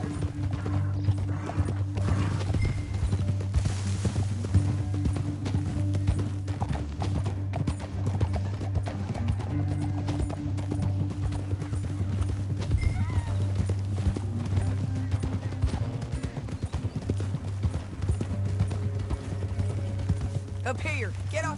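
Horse hooves galloping steadily through a canyon in Red Dead Redemption 2, a continuous loud clip-clop rhythm over low rumbling music, with a brief whinny and voices talking over the ride.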